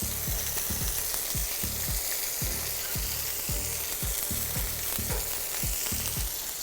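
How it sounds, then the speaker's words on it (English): Big Mac bun pieces sizzle and fry steadily in a hot pan, a continuous crackle with a rhythmic low scraping or stirring pulse repeating throughout. "I'm gonna drop them in the pan and I'm gonna toast them a little bit."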